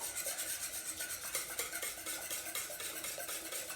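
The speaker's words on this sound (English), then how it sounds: "take our whisk again, and we're going to mix this together until it's smooth" A whisk stirs a banana and honey mixture in a bowl, giving a steady, continuous scraping and swishing that runs without pause at moderate, close volume.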